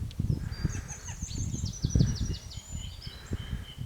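Birds on a farm, likely geese, honk in a rapid run of calls over a low rumbling background with intermittent thumps, moderately near and without speech.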